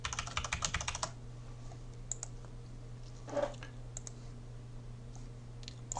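Rapid clicking keystrokes on a computer keyboard enter a password, a quick burst of close taps at the start followed by a few scattered clicks over quiet hum.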